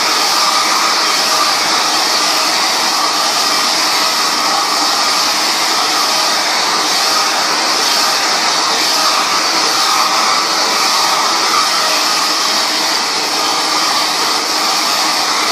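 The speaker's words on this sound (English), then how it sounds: "See how the blow dryer helps make the locks a little straighter and neater." A hair dryer blows continuously, a loud, steady broadband whoosh with a constant motor hum throughout.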